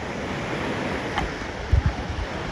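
Water surges and washes in the wave pool at Volcano Bay water park, a broad steady wash of water with a couple of louder thumping splashes near the end.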